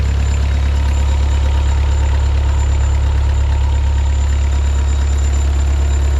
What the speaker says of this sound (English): can you listen to the engine here?